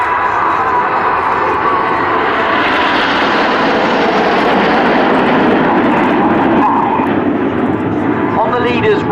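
RAF Red Arrows jets in Phoenix formation at an air show, a loud sustained jet roar sweeping past, with a commentator talking over it throughout.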